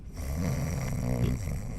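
A person imitates snoring with a voice, producing one drawn-out, rattling snore lasting well over a second, loud and close, with no other talk around it.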